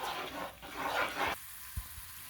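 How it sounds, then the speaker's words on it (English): Masala sautéing with ginger and garlic paste in a pan for a fish curry, a close, steady sizzle and frying hiss for about a second and a half, then settling to a quieter background with a soft thump. "now we're gonna saute this masala with the ginger and garlic paste for about half a minute"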